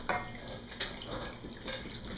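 Sugar is stirred into a mixture in a bowl, giving brief clinks and scrapes of a utensil against the dish, close and fairly quiet, with no talking.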